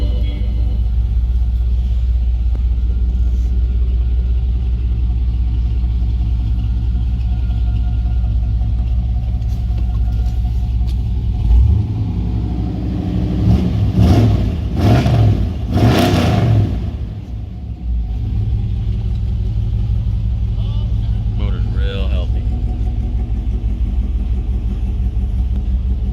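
A 1979 GMC Jimmy High Sierra 4x4 engine runs steadily through dual exhaust, with a deep constant rumble and a short louder rev swelling near the middle before settling back to idle.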